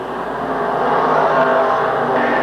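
Stock cars racing on a speedway at an Eastern States Sportsman 50 event produce a continuous, loud roar of engines at full throttle, building slightly as the field runs on, with no voices over it.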